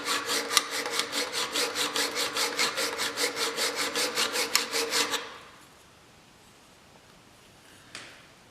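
A card scraper's edge is drawn back and forth across a flat file in about twenty quick, even rasping strokes, close and clear, before stopping into near silence with one faint tap near the end.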